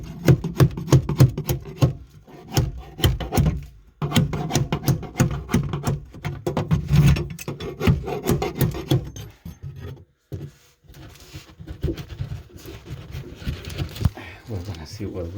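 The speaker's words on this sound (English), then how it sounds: "I'm using my little hacksaw to cut it" A small hacksaw cuts pipe during a shower valve replacement, giving rapid, close rasping strokes in a steady back-and-forth rhythm that pause briefly a few times.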